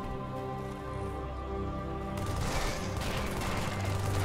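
Assault rifle and shotgun fire in Halo 3 against the Flood: a steady tonal hum for about two seconds, then a loud, dense barrage of continuous gunfire and impacts filling the rest, with no talking.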